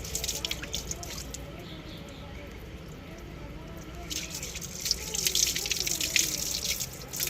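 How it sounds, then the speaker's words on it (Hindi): Water pours and drips over freshly pulled radishes as they are rinsed of soil outdoors, a steady splashing wash that grows louder toward the end, with voices talking faintly underneath. "गोंगलू तो मिट्टी लथ रही है, पानी पै रहा उसे"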